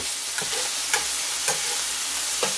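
Thin strips of budget steak sizzle steadily in hot grease in a pan while a spatula pushes, pulls and tears the meat apart, leaving a few soft scraping strokes over the constant close frying hiss.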